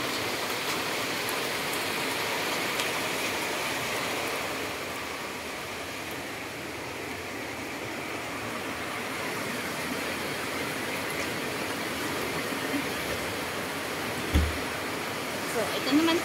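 Steady rain falls on garden plants, a dense even hiss that continues without a break, with a couple of soft thumps near the end.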